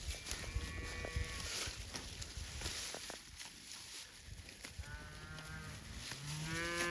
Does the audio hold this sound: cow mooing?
yes